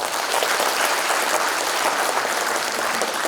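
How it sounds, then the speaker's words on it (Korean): A large audience at a Korean book-launch event applauds loudly and steadily, a dense continuous wash of many hands clapping together without a break. "우리 박형준 시정이 성공할 수 있도록 한 번 더 박수 부탁드립니다"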